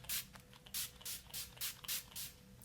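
Six or seven short hissing bursts of NYX Matte Finish setting spray, evenly spaced about half a second apart, close to the microphone with no talking.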